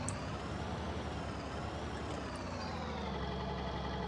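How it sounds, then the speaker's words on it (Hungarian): A vehicle engine in the video game Farming Simulator 19 hums steadily close by, a continuous low rumble that swells slightly as a car drives past, with no talking. "félre kell állnom, mert jön egy autó"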